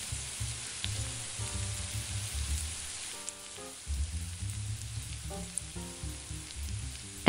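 Bulk hot Italian sausage browning in a pan as it is turned, a moderate, even sizzle running the whole time beneath faint tonal background sounds, with no talking.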